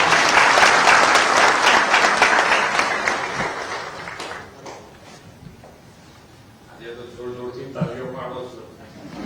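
Loud audience applause fills a hall for Gujarat Chief Minister Bhupendrabhai Patel at a public event, swelling for about four seconds before thinning out as voices and murmuring take over.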